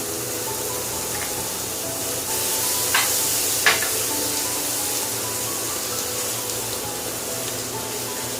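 Ginger garlic paste and yogurt go into a pan of chopped tomatoes, giving a steady low sizzle with a couple of sharp stirring scrapes around the third and fourth seconds, moderately close and with no voices.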